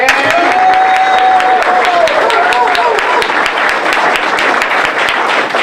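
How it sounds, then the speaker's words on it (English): Sustained audience applause for a senator at a sports park groundbreaking ceremony, dense and steady throughout with a few cheers, while talk and a sliding whistle-like tone run underneath. "Can we give him a round of applause?"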